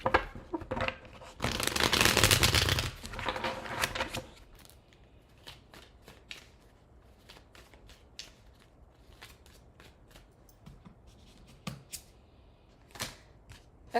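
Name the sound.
shuffling tarot cards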